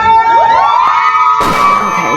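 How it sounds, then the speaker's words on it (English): Restaurant servers cheering their boss as he walks in, a burst of loud, close, high rising whoops from several voices, followed by a sudden noisy swell of shouting and crowd noise. "Those are Vinny's servers right there, cheering him in as he walks in."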